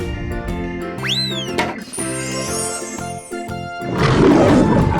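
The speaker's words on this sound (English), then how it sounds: "Lion." A toy lion's recorded roar plays amid bright jingling children's music with sliding boing effects, the roar rising loudly near the end over the tune.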